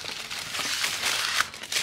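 Paper wrapping around a Longchamp Le Pliage mini pouch crinkles and rustles up close, with a run of dry crackles and a few sharper crunches.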